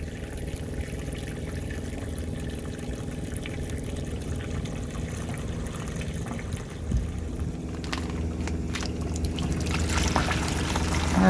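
Water gushing steadily out of a camper's plumbing into a dirty bucket while the freshwater system is flushed after winterizing, a continuous pouring rush that grows slightly louder and busier toward the end.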